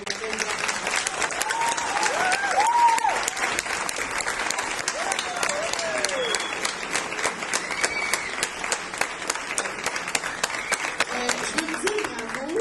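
An audience at an adult education celebration claps steadily for the whole stretch, a dense continuous applause with some cheering and crowd voices mixed in.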